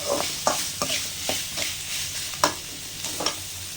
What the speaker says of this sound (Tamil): வெங்காயம் வந்து நல்லா தாளிச்சதுக்கப்புறம் நல்லா வெங்காயம் நல்லா வேகணும்